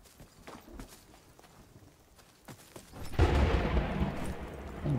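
Thunder rolling through the Crescent Falls map in the video game The Cycle Frontier, a low rumble swelling in midway and lingering loud after scattered light footstep-like taps.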